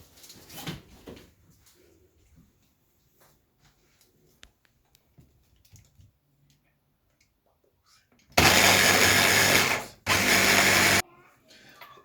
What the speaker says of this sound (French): Là maintenant j'ai fini de mixer.